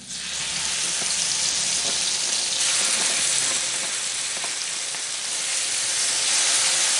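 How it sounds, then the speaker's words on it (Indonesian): Vegetable dumplings fry in a hot pan with a steady, loud sizzle and crackle that runs unbroken throughout, with no talking over it. "Goreng."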